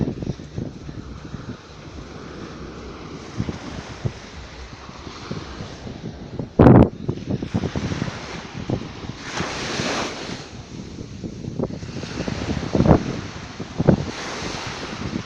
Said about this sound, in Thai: โอ้ยคลื่นใหญ่มากเลยดูสิ